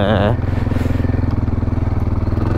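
A MAXXER 300 quad in two-wheel drive runs across sandy rough ground, its engine giving a loud, steady, pulsing chug close by throughout.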